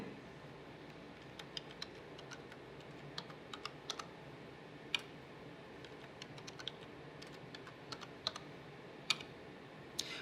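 Soft, faint keystrokes as a password is typed on a computer keyboard, scattered light clicks spread irregularly over a quiet background hum.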